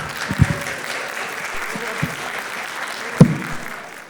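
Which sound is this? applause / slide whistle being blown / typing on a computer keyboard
applause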